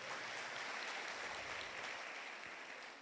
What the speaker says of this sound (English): Let us give them a hearty round of applause.